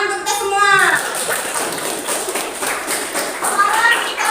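Classroom applause from students during a teacher's lesson, a steady wash of clapping running throughout, with children's voices chattering over the top near the start and end.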